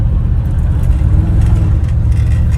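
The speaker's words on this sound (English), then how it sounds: "Exhaust sounds really good." A 1956 Chevrolet Bel Air cruiser's exhaust rumbles as a steady, deep, loud drone from inside the moving car, with no talk.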